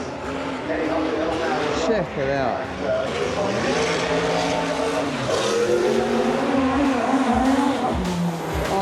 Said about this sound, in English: Time to watch a few cars go up the hill, and we're at the grandstand on the start line.